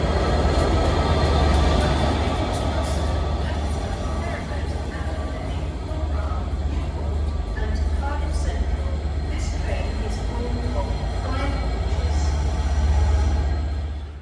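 Avanti West Coast passenger train passing through Crewe station, a loud, continuous rumble and roar that fills the whole stretch, swelling slightly near the end, with faint voices underneath.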